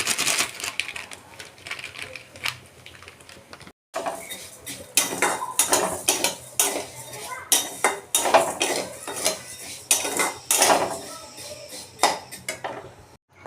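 Vermicelli stirred in heated milk in a pot for payesh, busy metallic scraping and clinking of a spoon against the pot in quick irregular bursts, with a brief pause partway through.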